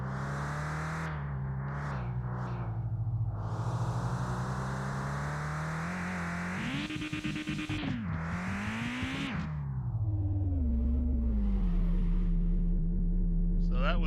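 A front-wheel-drive hot hatch in the driving game Mon Bazou drones steadily, its engine pitch rising and falling with shifts and bursts of acceleration, a clear revving surge midway, then settling back to a lower steady hum.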